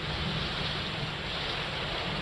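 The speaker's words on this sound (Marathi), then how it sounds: "सकाळपासूनच धुवाधार असा पाऊस सुरू आहे" Heavy monsoon rain in the Mumbai area pours down as a dense, continuous roar, steady and unbroken, with no voices over it.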